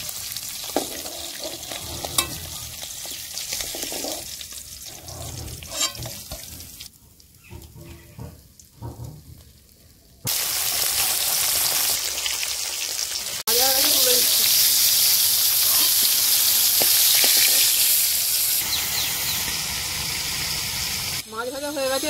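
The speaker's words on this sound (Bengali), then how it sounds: "মাছ ভাজা হয়ে গেছে, এবার তেলের মধ্যে একটু ফোড়ন দিয়ে দেবো" Live pond-caught magur catfish frying in oil in a pan, crackling and sizzling loudly with stirring, the sound shifting between quieter and much louder, steadier stretches with abrupt changes, no talk over it.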